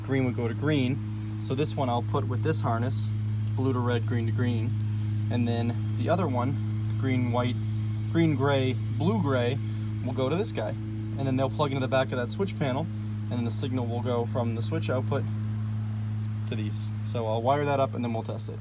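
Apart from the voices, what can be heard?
lawnmower running in the background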